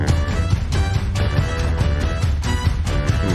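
Dense, loud orchestral-style music plays continuously with a steady beat and full low end, no voices over it.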